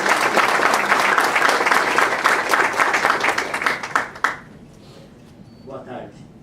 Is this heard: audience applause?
yes